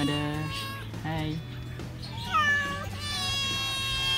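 A cat meows several times in drawn-out, rising and falling calls, close by at a mini zoo, while a person talks softly alongside it.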